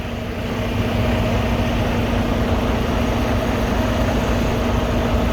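Several vehicle engines idling outdoors on a cold day, a steady, loud, continuous low rumble with a constant hum and no talk.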